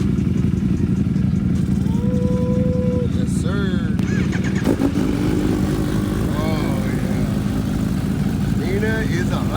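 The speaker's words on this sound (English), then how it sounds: "They starting the bikes." Kawasaki Ninja H2 sport bikes, one fitted with a stage 2 kit, rumble and rev loudly and continuously nearby, engine tones rising and falling while people talk and whoop over the noise.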